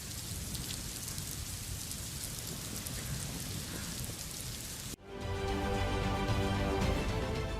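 Heavy monsoon rain pours over Mumbai, a dense continuous roar of downpour that cuts out briefly near the end and then returns just as strong.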